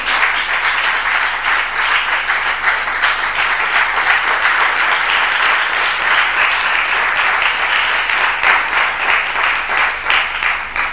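A congregation applauds in church during a French-language homily, with sustained, dense clapping from many hands holding steady and loud for about eleven seconds.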